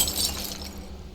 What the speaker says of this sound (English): and more broken glass.